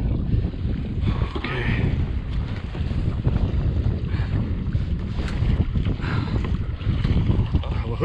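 Strong wind buffets the microphone in a constant low roar, with splashing water and kayak noise beneath while salmon fishing on Puget Sound; loud and unbroken throughout.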